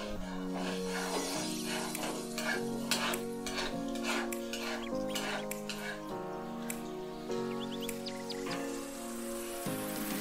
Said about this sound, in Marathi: आपण असं झाऱ्याने हळूहळू असं फिरवत राहायचं म्हणजे गोळे सगळीकडून छान तळले